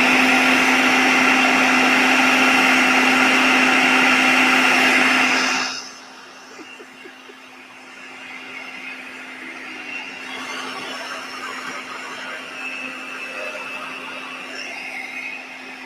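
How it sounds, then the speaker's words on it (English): Blender motor whirring loudly and steadily on coconut pieces, raisins and dates for about six seconds, then cutting off abruptly, leaving a quieter room with faint background noise. "We're trying to get the pieces of the coconut and the raisins and the dates to blend up."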